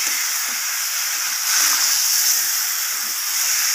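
Fried potol pieces are sautéed together in an egg omelette curry, giving a steady, bright sizzle and hiss that swells briefly midway, close and continuous with no talking.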